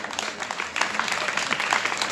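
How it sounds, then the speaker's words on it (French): Scattered applause for Daniel from an audience at a charity event, a short burst of clapping heard under a speaking voice. "On peut l'applaudir à Daniel aussi,"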